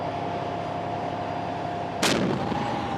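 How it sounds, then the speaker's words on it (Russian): A 125 mm artillery round fired on a military range, a single sharp, loud blast about two seconds in that trails into a rumbling decay over a quiet background hum. "Прогремел выстрел только что."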